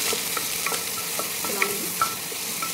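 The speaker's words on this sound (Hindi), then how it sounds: "सब इसमें ऐड करूँगी कट किया हुआ ऑनियन और ग्रीन चिली। सभी को अच्छे से" Chopped onion and green chili fry in a pan for a Bihari lauki chana dal sabji, a steady close sizzle with scattered light scraping clicks as a spoon stirs, no voices.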